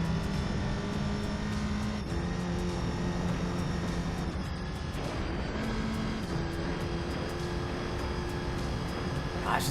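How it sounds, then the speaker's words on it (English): Rally cars race in Gran Turismo 3, a steady engine drone with shifting pitch and gear changes, moderately quiet and continuous with no talk. "I love the sound of the rally cars, though. The sheer aggression in the blow-off valves."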